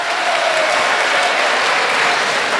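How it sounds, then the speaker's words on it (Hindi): A crowd at a poetry recital during the Eid Milan All India Mushaira in Gandhi Bhawan, Lucknow, breaks into applause. The dense clapping stays loud and steady throughout, with no speech over it. "अपनी करतल ध्वनि से मुझे साथ दीजिए, अपनी तालियों से मुझे थोड़ा सा हौसला दीजिए"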